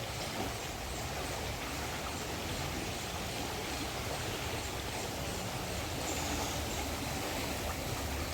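The muddy Ganges at Haridwar, running high and fast after rain, makes a continuous loud rushing roar of water that stays steady throughout.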